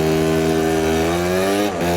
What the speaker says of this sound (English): Watch this first kick start, boy.